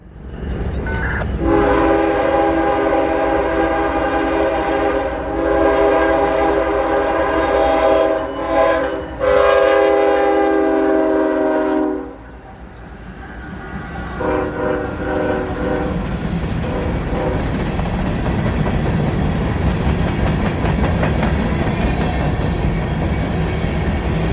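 A freight train passes on the W&A railroad near Kingston, its horn sounding loud and close in long blasts for about ten seconds, followed by the rumbling, clattering roll of cars going by steadily.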